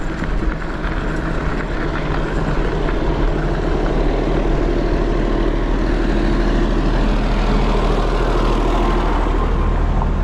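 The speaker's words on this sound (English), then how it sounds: "Got a tractor coming." A farm tractor approaches on a hilly road, heard from an electric trike as a loud, continuous low engine rumble mixed with heavy wind noise for the whole stretch.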